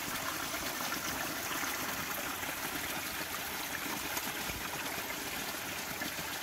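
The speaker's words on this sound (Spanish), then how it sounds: "Miren cuánta agua sale de esa montaña." Icy water pours out of a mountainside as a steady stream, making a constant, dense rushing and splashing close by with no pauses and no voices.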